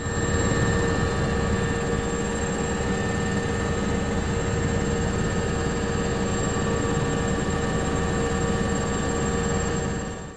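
A military helicopter flies from İncirlik over earthquake-ruined Hatay, heard from inside or close by as a loud, unbroken droning roar with a steady hum that holds level throughout. No voices.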